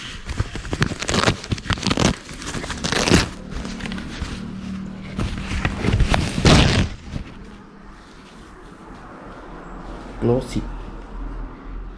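Plastic packaging around an SMK spoiler for an Axor helmet crinkles and crackles in sharp bursts as it is unboxed, with a person talking between and over the rustling.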